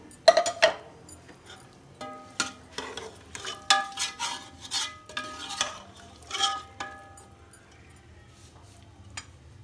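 Boiled white chickpeas tipped into a cooking pot for Lahori-style chanay, with close, irregular clinks, knocks and scraping of a metal spoon against the pot over about ten seconds.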